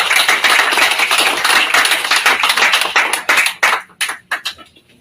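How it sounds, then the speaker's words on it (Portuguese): A crowd at a political party meeting in Rio Grande do Sul, Brazil, claps loudly and densely, then the applause thins into a few scattered claps before fading out. "E uma salva de palmas ao PTB."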